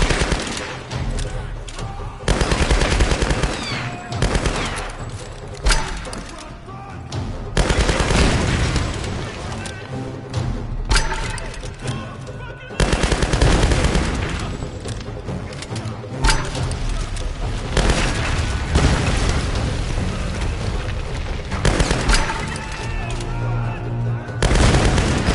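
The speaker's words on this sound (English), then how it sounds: "I'm very good at tapping the trigger with this gun, and I've unlocked the ability to make it shoot as fast as I can pull the trigger" Rapid trigger-tapped gunfire in Tomb Raider (2013), with bursts of quick shots and heavy booms repeating across the stretch, loud and close, separated by short lulls and a voice speaking now and then.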